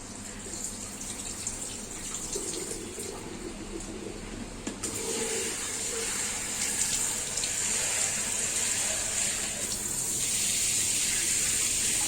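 Water pours and splashes continuously through a filter for collecting hatched baby brine shrimp, a steady rushing flow like a running tap, growing slightly fuller partway through.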